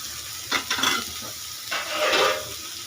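Vegetable stems and plenty of green chilies hit a hot pan with a bright hiss that swells in two bursts, loud and close, as they are tossed and stirred.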